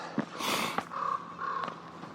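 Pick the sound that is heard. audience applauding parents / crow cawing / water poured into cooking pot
crow cawing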